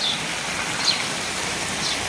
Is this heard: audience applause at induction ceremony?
no